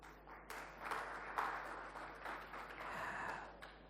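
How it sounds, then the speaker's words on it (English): An audience at a cohort unveiling event breaks into applause, with scattered claps that build into a moderate, somewhat distant round over a low steady hum. "Really a big applause to you"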